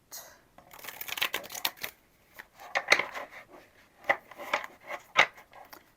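A deck of tarot cards is shuffled close up, with bursts of riffling and flicking in quick rhythmic runs separated by short pauses.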